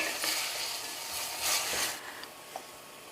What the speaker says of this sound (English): Now let's give that a mix and saute.